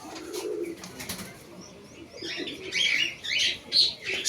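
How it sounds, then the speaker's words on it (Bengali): In spring mango trees full of blossom, birds call in short repeated bursts; the faint, far-off call of an Asian koel can be heard alongside other nearby bird chirps, with no speech. "দূরে কোথাও একটা কোকিল ডাকছে"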